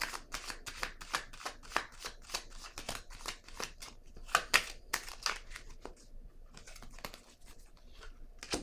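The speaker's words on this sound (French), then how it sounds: "je vais déposer une carte sur chacune d'elles" Tarot cards slapped and slid one after another onto a table, a quick run of crisp papery snaps and shuffles, close and fairly soft, with no talking.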